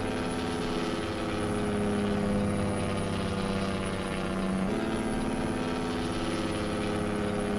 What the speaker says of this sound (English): let me know if the engine sounds are too loud